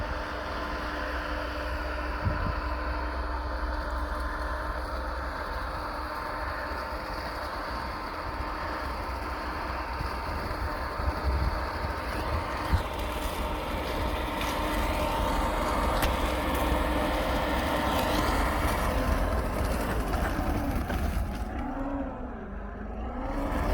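A Sherp amphibious ATV driving across river ice, its engine a steady, loud, continuous drone that builds slightly toward the end, with no voices.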